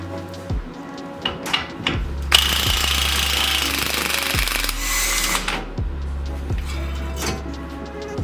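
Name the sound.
impact gun on Nissan Rogue axle nut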